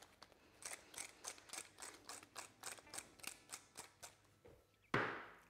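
A hand pepper grinder cranks over stuffing, giving a steady run of about a dozen close ratcheting clicks. A louder scraping rustle follows at the end.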